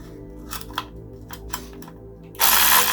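A powered ratchet loosens bolts on a Reliant Regal Supervan engine, giving several short, close clicking bursts before a louder sustained whirring buzz near the end.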